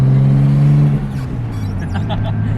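A Nissan Skyline R33's engine drones loudly up close, its steady tone dropping as the revs fall, with faint whooshing and fluttering from the turbo as the car drives on.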